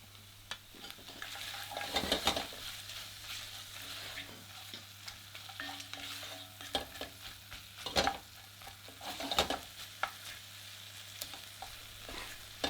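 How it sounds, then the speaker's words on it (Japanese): Chopped lobster heads and vegetables sizzle in melted butter in a pan, with repeated stirring scrapes and clacks over a steady frying hiss, close and moderately quiet. "ここでもう一回野菜と一緒に炒めていきます。"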